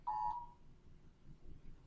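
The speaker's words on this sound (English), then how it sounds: "I'm getting an alert on my phone" A phone alert sounds as a single short electronic beep at the start, clear but modest in volume, then fades into quiet room tone with no talking.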